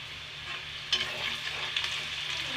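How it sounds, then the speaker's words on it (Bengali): Onion frying in a pan with salt and ground cardamom and cinnamon for chicken bhuna gives a quiet, steady sizzle with faint scraping stirs rising briefly twice; no voices. "এখন ভালোভাবে পেঁয়াজটা ভাজে নেব পেঁয়াজের মধ্যে একটু লবণ দিয়ে দিব যাতে পেঁয়াজটা তাড়াতাড়ি ভাজা হয়ে যায়"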